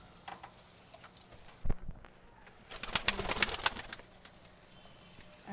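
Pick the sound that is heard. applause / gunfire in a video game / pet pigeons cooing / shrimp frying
pet pigeons cooing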